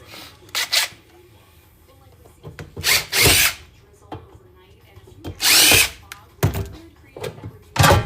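A power drill removes screws from an electronics casing during e-waste scrapping, with several short, loud whirring bursts separated by pauses and small clicks and handling noises between them.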